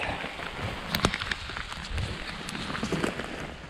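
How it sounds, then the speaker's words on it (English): Heavy rain pours down on a wooded spot in Illinois or Missouri, a dense, steady close-up hiss of drops striking leaves and ground with scattered sharper splats and no voices. "it's really downpouring"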